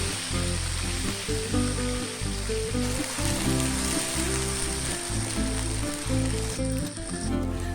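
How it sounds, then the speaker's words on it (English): Curry paste for a Nyonya prawn pineapple curry sizzles loudly as it is sautéed in hot oil. The frying is dense and continuous, with a rattling, scraping texture from the stirring and no voices. "we are going to put the paste into the hot oil and saute it for"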